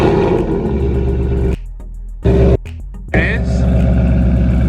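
A 2019 Mustang GT with a Borla Atak catback exhaust starts up with a cranking burst and settles into a loud, close, throbbing idle rumble that cuts out briefly, with short blips, before resuming.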